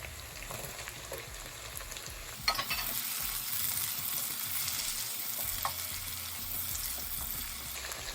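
Chopped tomato frying in a pan of oil for watermelon sabzi, a steady close sizzle with occasional stirring scrapes and clinks, no voices.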